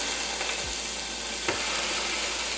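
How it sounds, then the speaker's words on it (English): Salmon fillet laid into a frying pan, giving a soft continuous sizzle with a couple of faint knocks, fairly quiet and steady, no voices. "So I'm going to go ahead and put the salmon into the pan."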